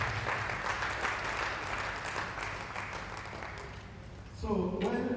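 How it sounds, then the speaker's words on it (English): Conference audience at an industry event claps together in a steady wash of applause, fairly faint and distant, before a voice cuts in near the end. "Please, let's give ourselves a round of applause."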